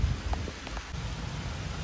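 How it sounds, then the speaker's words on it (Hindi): Steady, dense rainfall hisses continuously with a low rumbling undertone, a constant wash of falling water without pauses. "अभी तक बारिश बंद नहीं हुई है"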